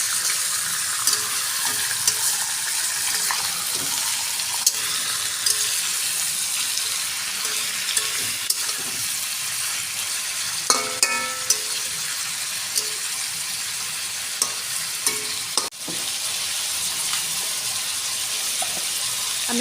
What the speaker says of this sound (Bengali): মাংসটা ভালো করে ভেজে নেব।